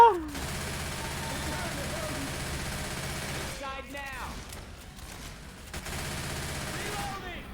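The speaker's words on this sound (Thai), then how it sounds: "กูยิงอยู่" Rapid bursts of gunfire from a Left 4 Dead 2 firefight fill the scene, a dense sustained barrage with brief lulls, while a voice talks over it.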